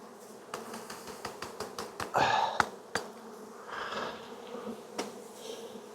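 Honey bees buzz in an opened hive during an inspection, a steady close hum broken by sharp knocks and taps of frames, with a brief hissing burst of smoke midway.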